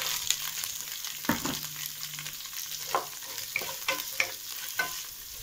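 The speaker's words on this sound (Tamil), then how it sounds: "வெங்காயம் நல்லா ஃப்ரை ஆகணும்." Onions with curry leaves and green chillies fry in a pan for a mutton kulambu, a soft steady sizzle broken by occasional stirring clinks and scrapes, close and quiet, with no talk.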